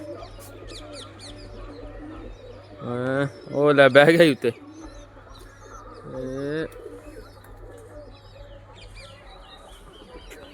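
Pigeons coo and flutter nearby on top of their loft in a couple of short bursts, with someone speaking briefly over a steady low hum.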